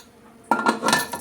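A metal pressure cooker lid clatters and clanks shut over a pot of ridge gourd curry, with a sudden burst of rattling contact midway that continues in a few uneven knocks.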